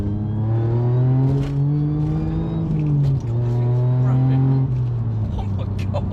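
Tuned, remapped Audi S4 engine pulling hard uphill, a loud close rising drone with harmonics climbing through the gears and a brief dip at a shift.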